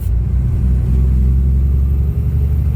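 Big truck engine with an 18-speed transmission, a loud, steady low rumble at close range that rises slightly as the driver moves up through the low gears.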